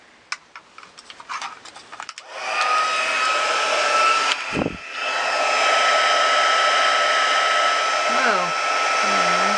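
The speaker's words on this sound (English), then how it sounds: "So let me grab my heat tool and let's do that quickly together." Heat tool blowing hot air to dry ink on a card, a loud steady whirring roar that switches on after a few faint taps and runs continuously, dipping briefly midway, with a brief exclamation at the start.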